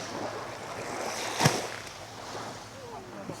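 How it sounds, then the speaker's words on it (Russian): Waves wash onto a beach on Rügen island in cool, wet weather. The surf rushes softly and continuously, with wind noise on the microphone and one brief sharp bump. "Но шум волны успокаивает нервную систему."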